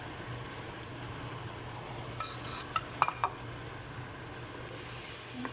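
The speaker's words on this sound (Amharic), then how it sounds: "እዚህ ከሆነልኝ በኋላ ቲማቲም ጨምራለሁ አብሮ እንዲጠበስ ማለት ነው።" Browned onion and tomato frying in oil for maqluba, a continuous sizzle, with a few sharp utensil clicks and scrapes from stirring in the pan around the middle.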